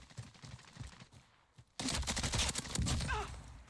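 Gunfire in the Warzone video game: a sudden loud burst of rapid automatic shots erupts partway through, following quieter muffled game sounds and faint talk.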